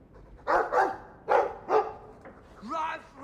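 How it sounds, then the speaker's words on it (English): A dog in the Dragon Age 2 video game gives a few sharp, close barks in quick pairs, followed by a softer yip. "I like the doggy."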